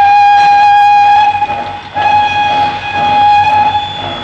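A train departs with loud, sustained whistles sounding over a steady rumble of the locomotive and railway cars, the whistle tone dipping briefly before resuming.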